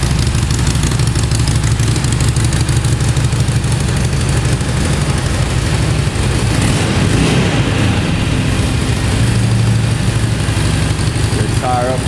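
A used Harley Davidson Sportster 883 Iron XL883N motorcycle with 3,528 miles, its engine idling loudly and steadily throughout, with a voice talking over it.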